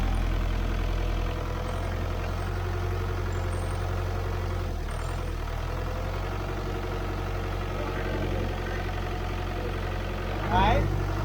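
A truck engine idles at raised revs with the hand throttle turned up, a steady low drone running unbroken throughout, with a brief rattle near the end.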